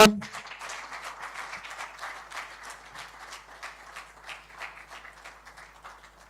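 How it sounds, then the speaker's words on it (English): Audience applause breaks out at an airline event announcing new routes, a steady crowd clapping that starts abruptly loud and continues evenly throughout with no other sound standing out. "Big round of applause, ladies and gentlemen."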